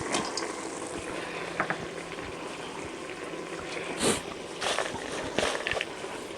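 Dry-style bird curry stir-frying in a pan with eggplant, krachai and whole peppercorns, a steady close sizzle broken by a few scraping stirs, with no talk.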